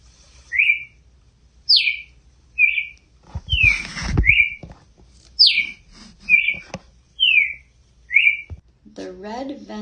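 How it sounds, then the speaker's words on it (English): A red-crested cardinal, the Brazilian cardinal, sings in a botanical garden with clear, sweet whistled phrases repeated at steady intervals, loud and close, broken by a brief rustle and a different chattering call at the end. "The red-crested or Brazilian cardinal."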